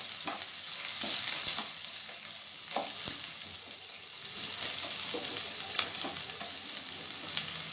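Onions fry in a pan, giving a steady, close sizzle throughout, while occasional stirring adds scraping clicks and knocks at irregular intervals. No one speaks.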